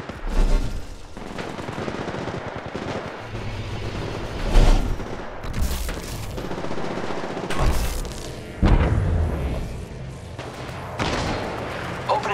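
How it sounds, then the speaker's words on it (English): Gunfire in the Apex Legends Mobile battle royale game: dense bursts of shots and booms throughout, loud and continuous, mixed with game sound effects and voice lines. "Opening fire on the enemy."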